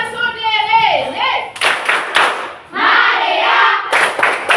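A class of children chanting in rhythm with sharp group claps in bursts, voices and hand claps alternating loudly and close by.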